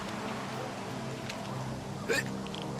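A game character in STALKER 2 gives a single sharp hiccup near the end, a short abrupt gulp standing out over a low steady game background.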